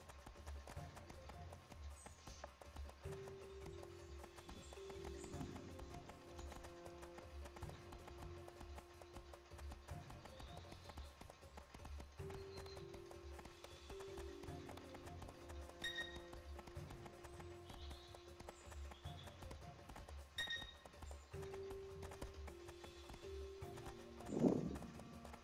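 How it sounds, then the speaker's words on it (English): A horse gallops in the fantasy video game Riders of Icarus, with faint, steady hoofbeats running under game music and soft ambient effects. "Come on, horsey."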